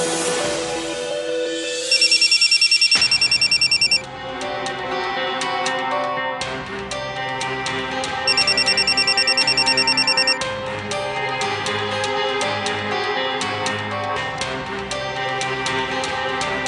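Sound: telephone ringing

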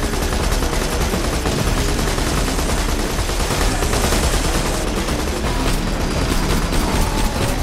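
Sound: handgun shooting in video game Borderlands 2

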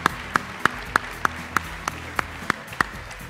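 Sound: audience applause welcoming foreign guests

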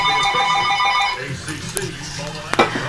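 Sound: house phone ringing

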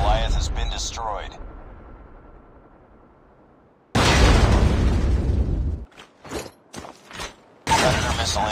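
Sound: explosion as XS1 Goliath is destroyed in COD Mobile video game

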